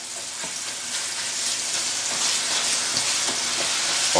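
Stuffing ingredients sizzle and fry steadily in a hot pan while browning for a stuffed pork loin, a constant bright crackle with occasional stirring, no talk.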